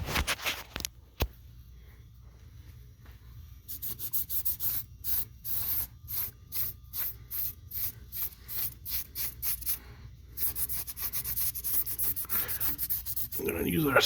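A rag wipes the surface of a Ford 8.8 differential clean with non-chlorinated cleaner, producing a quick series of close, rhythmic rubbing strokes after a short pause, with a couple of spray-like hisses at the start.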